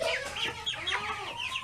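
Meat chickens clucking inside a coop, a busy overlapping chorus of close, steady clucks and squawks with a few higher calls rising above the flock.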